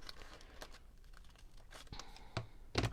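Designer series paper is cut by hand, giving faint crinkles and brief snipping and tearing sounds in short bursts, ending in a louder crisp crunch.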